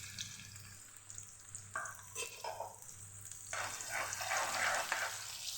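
Onions fry in hot oil with asafoetida, giving a steady close sizzle with scraping stir strokes that grow louder and busier toward the end, and no talking.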